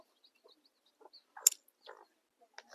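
A hen that has just laid clucks softly in short, sparse bursts, quiet and slightly distant, with long silent gaps between calls.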